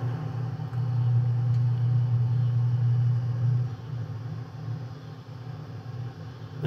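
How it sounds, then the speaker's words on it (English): A pellet stove's auger motor runs steadily in a shop, giving a low, even hum that holds loud for about three seconds before easing into a quieter rumble. "But I am glad to see that auger motor turning."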